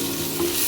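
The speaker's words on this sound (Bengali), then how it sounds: "এবার এটাকে আমি ভেজে নেবো" Shrimp coated in turmeric frying in a pan, a short, steady, close sizzle with a light stirring sound partway through and no voices.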